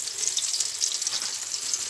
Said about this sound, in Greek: θα το τηγανίσουμε ένα-ένα, να μην κολλήσουν το ένα πάνω στο άλλο.